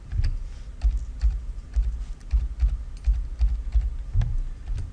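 Someone types on a computer keyboard, producing a steady run of soft, close clicks and thumps at an uneven typing pace, with no talking.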